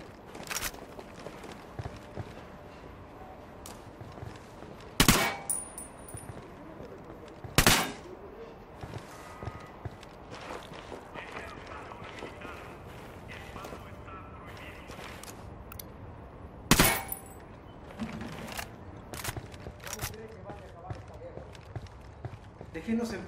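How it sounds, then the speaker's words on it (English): Gunfire in the tactical shooter Ghost Recon Wildlands: several sharp, loud individual shots ring out at irregular intervals, with quieter pops and scattered clatter between them over a low background. "Eyes on the target, I'm opening fire."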